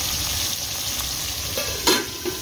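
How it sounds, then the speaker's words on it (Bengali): Fish fries in a covered pan in a home kitchen, giving a steady close sizzle with a few brief louder spatters and scraping stirs near the end, and no talk. "এখানে এখানে মাছ ভাজা চলছে"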